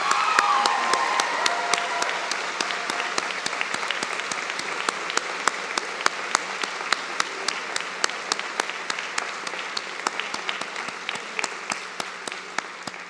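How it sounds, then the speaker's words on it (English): A convocation audience at a university ceremony applauds steadily, a dense wash of many hands clapping that carries on for more than thirteen seconds and eases off slightly toward the end. "Please join me now in a round of applause acknowledging them."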